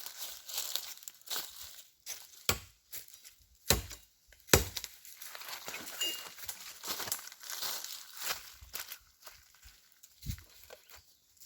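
A wooden stick is chopped in a few sharp, scattered cracking strikes between lighter crinkling and rustling handling sounds, close and with no clear talking.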